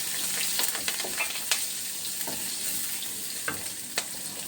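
Onion sizzling as it fries in a pan, a dense continuous crackle close up with a few light stirring knocks scattered through, and no voices.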